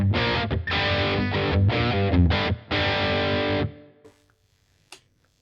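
An electric guitar plays through a Blackstar St James EL34 valve amp set to 50 watts, giving loud distorted chords and riffs that stop and ring out into quiet.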